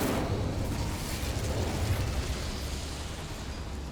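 An Incendio fire spell in Hogwarts Legacy striking a boiler inside a goblin mine, a loud rumbling whoosh of flame and blast that swells and then slowly fades over a few seconds, with no talking.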